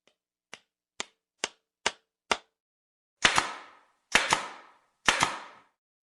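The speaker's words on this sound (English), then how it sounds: "it's a gun for putting nails in wood" A pneumatic nail gun fires nails into wood in short bursts. Five crisp snaps come first, then three louder shots, each leaving a brief ringing tail.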